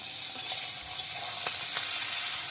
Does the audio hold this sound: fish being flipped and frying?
yes